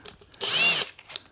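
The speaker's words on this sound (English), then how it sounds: "I gotta drill a big old hole for this too, for this knockout." A power drill fitted with a stepper bit bores a knockout hole during an off-grid EG4 6000XP inverter install, one short loud whirring burst of under half a second, close up, with faint clicks before and after.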